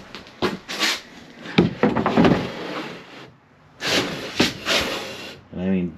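Large wooden drawers beneath the dinette benches of a 2022 Alpha Wolf 26RB travel trailer slide open and shut with knocks and rumbling thuds, heard between stretches of someone talking nearby.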